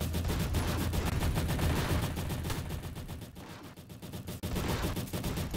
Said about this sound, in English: What's it shooting at?